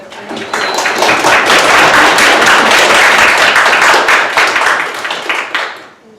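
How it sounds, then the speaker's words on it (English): An audience at a student senate meeting bursts into loud, close clapping that swells quickly, holds strong for several seconds, then thins out and fades to silence. "claps for Erica"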